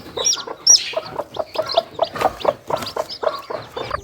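A hen clucks among her newly hatched chicks, with high peeps and soft repeated clucks close by. The sounds come in quick irregular bursts with no speech.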